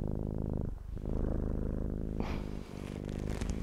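Cat purring loudly and very close, a continuous rumbling vibration with slight breathing shifts in rhythm and a faint rustle partway through.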